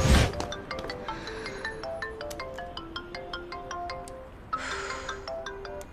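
A mobile phone ringtone plays a bright, melodic chime pattern of repeating electronic notes, steady and fairly loud throughout, with no talking over it.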